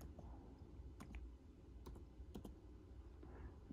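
Soft, sparse taps on a phone screen keyboard, a handful of quick light clicks at uneven intervals, close but very quiet against a faint low background.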